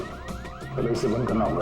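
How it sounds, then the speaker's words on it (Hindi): In a TV crime drama, a shock alarm rings with repeated rising, siren-like electronic sweeps, loud and close, while someone speaks over it. "तो कोई अलार्म लगता है, शॉकर अलार्म।"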